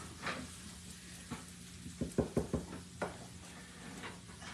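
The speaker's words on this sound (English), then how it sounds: "That's when you get that fry sizzle sizzle." Soft, steady frying sizzle of chicken fajitas in a pan, broken by a quick run of knocks and taps of a utensil against the cookware.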